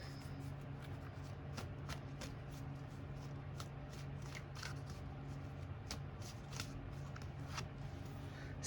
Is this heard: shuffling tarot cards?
yes